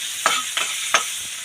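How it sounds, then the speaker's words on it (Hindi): Spices (masala) frying in a pan, a close sizzle broken by three quick stirring scrapes. "फोरन डाल के मसाला भूंजेंगे"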